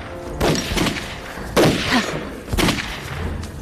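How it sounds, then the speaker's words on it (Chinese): Gunfire in a Chinese war film about fighting Japanese soldiers: three loud, sharp shots or bursts spaced about a second apart over a low background rumble. "听这个枪声"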